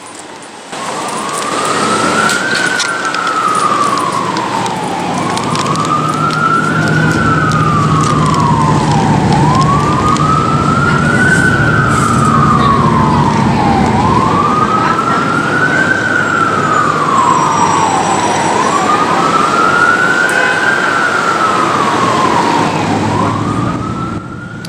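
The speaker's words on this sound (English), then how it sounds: "a little wind blowing and an emergency vehicle siren" An emergency vehicle siren wails in a steady rising-and-falling cycle, loud and continuous, over a constant rush of wind high up at the Gatlinburg Space Needle observation deck.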